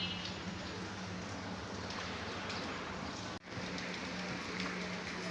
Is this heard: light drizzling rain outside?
yes